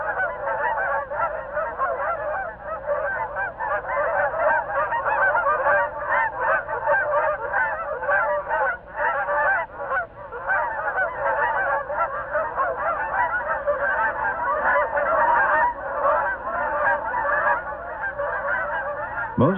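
Migrating Canada geese honking in a large flock, a loud, unbroken wall of overlapping calls lasting throughout, close and busy, with no talking.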